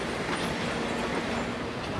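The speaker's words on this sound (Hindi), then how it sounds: "पेरू रेल की ट्रेन नज़रों से ओझल हो रही है।" A PeruRail train on the line to Machu Picchu in Peru rolls away into the distance, its wheels and wagons making an even, sustained rumble with light rail clatter and no one speaking.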